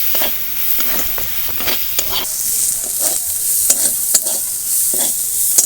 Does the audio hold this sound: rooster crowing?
no